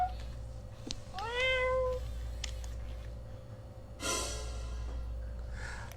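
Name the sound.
cat meowing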